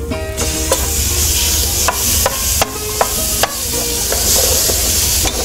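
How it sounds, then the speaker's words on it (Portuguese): Diced pork leg fries with bacon in a pan, giving a steady, close sizzle with the sharp taps and scrapes of a utensil stirring the pieces. "Depois do bacon já frito, eu vou acrescentar o pernil."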